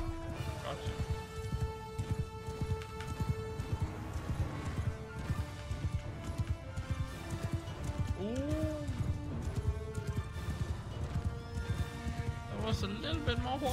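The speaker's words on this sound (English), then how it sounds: "A little bit more horses there than I thought." Many horses gallop in the medieval battle game Mount & Blade 2 Bannerlord, a dense, rapid clatter of hooves with whinnies and neighs rising over the din, and music and other battle sounds fill the background.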